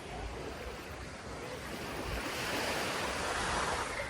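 Sea waves washing onto Phra Nang Beach at Railay, Krabi, a steady broad surf wash with light wind noise, swelling slightly louder toward the end.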